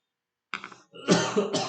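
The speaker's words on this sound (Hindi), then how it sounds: "खांसी आ रहा है" A short throat-clearing cough followed by a couple of harsher, louder coughs, close to the microphone.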